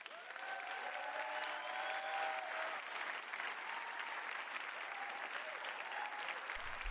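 A church congregation claps together in sustained, even applause that fills the room at a moderate level, with a few faint voices and murmurs mixed in.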